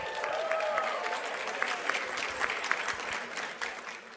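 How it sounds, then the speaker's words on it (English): An audience applauds at a cultural diplomacy lecture marking the 50th anniversary of the National Council of International Visitors. The clapping is steady and moderately loud for about four seconds, with faint voices mixed in. "I think that deserves a round of applause"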